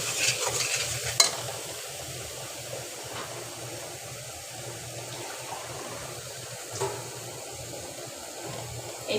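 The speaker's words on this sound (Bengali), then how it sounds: "দিয়ে দিব পাঁচফোড়ন গুঁড়া, মশলাটাকে ভালো করে কষিয়ে নিচ্ছি" A spice paste with panch phoron powder is stir-fried in a pan, giving a steady wet sizzle with scraping stir strokes and a few louder knocks near the start.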